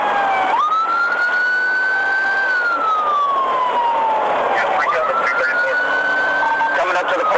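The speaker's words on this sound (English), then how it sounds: "When the sirens came on, the driver took off like a madman" A police car siren wails loudly and continuously during a high-speed chase through town, its pitch sweeping up and down for the whole stretch over steady road and engine noise.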